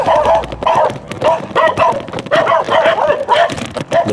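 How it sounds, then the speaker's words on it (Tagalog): Several dogs bark and yip repeatedly around a person riding a bicycle, the barks coming in quick, overlapping bursts at fairly close range, loud and continuous throughout. "habang nagbabike ako, may mga asong gustong habulin ako"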